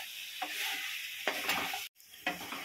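Chicken and broccoli stir-fry with sauces is stirred in a pan, soft sizzling broken by several distinct spatula scrapes, with a brief dropout partway through.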